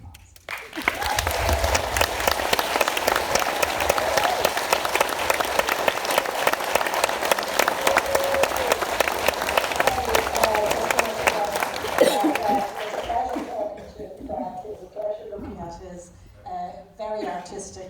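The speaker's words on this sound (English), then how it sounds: "So just to say thank you to them and round of applause." A full audience gives a long, steady round of applause at a film screening Q&A, loud and even for about thirteen seconds before thinning out and fading as a voice starts speaking.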